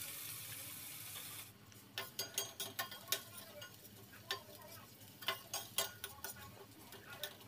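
Chopped onion frying in oil in a pot for a prawn and spinach curry: a steady hiss that drops away, then a run of irregular clicks and taps like stirring against the pot, no voices.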